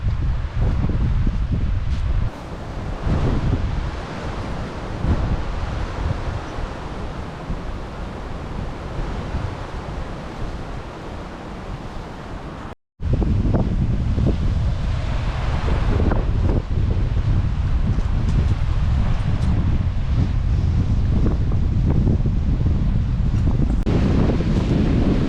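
Blustery wind on Lady Musgrave Island buffets the microphone in loud, sustained gusts, with surf faintly beneath and a brief cut near the middle before the roar resumes.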